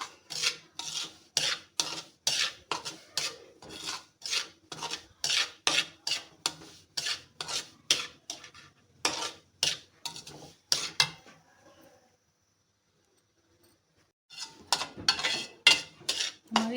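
A spoon stirs semolina and fennel as they roast in a pan, making rhythmic, close, gritty scraping strokes. The stirring pauses for about two seconds, then resumes.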